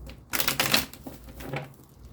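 A brief, quiet riffle of tarot cards being shuffled, a couple of soft papery bursts close by with no talking.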